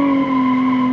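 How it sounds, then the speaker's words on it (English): Tires skid from a car sliding with its rear wheels locked in the BeamNG driving game, a steady loud squeal with tonal engine drone, continuous for the whole second with no talk. "Maybe because I have the rear wheels locked up."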